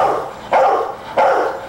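Two big Rottweilers barking behind a gate in a residential yard, two loud, close barks about half a second apart.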